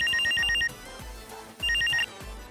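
A phone ringtone plays in two electronic bursts separated by a pause, with low thumping background noise underneath.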